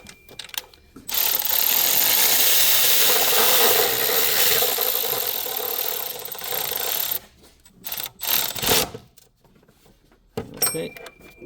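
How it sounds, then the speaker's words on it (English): Ratchet tightening alternator bolts on a Nissan Altima 2.5 engine: a steady, loud, continuous mechanical whir for several seconds, then a few shorter bursts, close up with no talking. "I'm gonna tighten them up a little bit."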